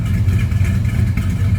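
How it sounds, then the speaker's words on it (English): Idling 440 V8 with a mild cam in a 1963 Plymouth Belvedere, heard from behind the car as a steady, loud, deep exhaust rumble with no talking. "Slip around back so you can hear the rumble."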